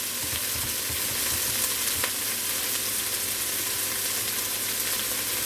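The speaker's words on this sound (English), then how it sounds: "So right now my onion and the celery sauteing right there." Onion and celery sauté in a pan for fresh tomato sauce, producing a steady, close frying sizzle with soft crackles and occasional light stirring, continuous and unbroken.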